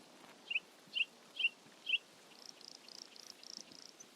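Birds in the video game Escape from Tarkov: four sharp, evenly spaced chirps ring out alone, followed by a faster, fainter run of high twittering notes against quiet ambience.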